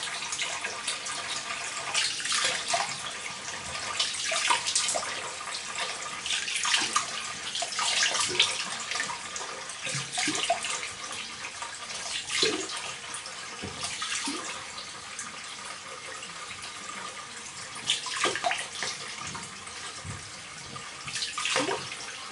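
Water runs from a tap for a face wash, a steady close splashing hiss lasting throughout with small shifts as hands move through the stream, no talking.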